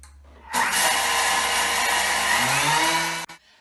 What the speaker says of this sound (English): I'm going to grind these two in the processor